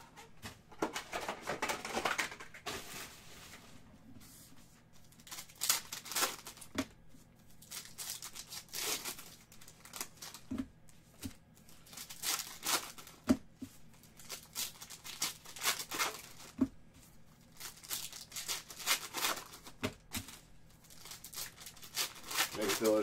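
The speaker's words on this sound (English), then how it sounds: "Got a couple more boxes of packs to unwrap here." Basketball card packs being torn open and unwrapped, with bursts of crinkling foil wrappers and soft tearing recurring every few seconds, close and fairly quiet, under someone talking.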